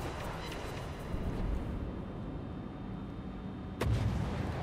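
Naval gun salvos boom from a Bismarck battleship in World of Warships, a dense rumbling barrage with a sharp, loud blast near the end.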